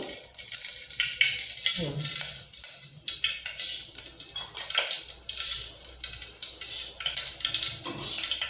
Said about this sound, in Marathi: हे वाटण आहे ना हे असं तेलावर टाकायचं